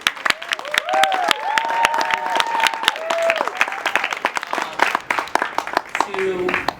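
An audience at a cast awards event claps in a warm, continuous round of applause, with voices rising over it and some cheering mixed in.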